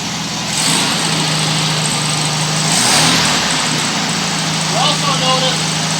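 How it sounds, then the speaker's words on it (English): A freshly rebuilt engine in a 1968 VW Beetle convertible fires up and settles into a steady, close running hum with a brief rev swell, while someone talks over it. "So now we're just going to attempt to start the car."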